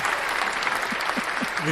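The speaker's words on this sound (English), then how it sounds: "You literally produce your own applause." Canned applause triggered by a clap button during a livestream plays as a steady wash of clapping, with a voice talking over it.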